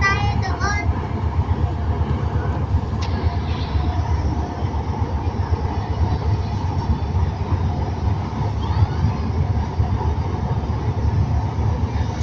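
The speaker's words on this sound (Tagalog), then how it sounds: "Second ride ni MJ sa LRT train." Inside a moving LRT train, a steady loud rumble and rattle of the carriage rolls on continuously, with faint squeals and a voice occasionally heard beneath the noise.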